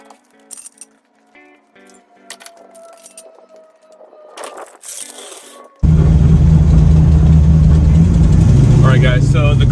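A 1968 Dodge Charger with a newly fitted 3.23 Sure Grip rear end on a test drive: faint idle and rattles at first, then a loud, steady engine roar and road noise filling the cabin.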